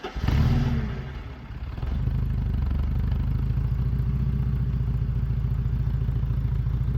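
A Porsche 944 engine is started: a short loud burst of cranking and catching, a brief dip, then the motor settles into a steady, even idle rumble.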